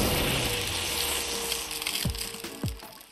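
Custom vampire sword activation effects in Minecraft: a crackling, crushing rush of noise followed by two sharp downward swooping tones near the end, brief and fairly faint.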